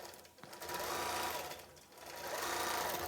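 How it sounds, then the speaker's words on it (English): A sewing machine stitches across an antique chain quilt, a fast steady mechanical whir that swells and dips slightly as the fabric is guided, close and continuous with no talk. "And now we will just go over and start quilting."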